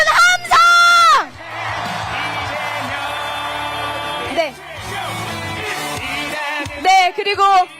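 A large crowd at an outdoor political rally in Ulsan cheers and shouts, with loud whoops and screams at the start and end and a steady roar in between, mixed with amplified voices.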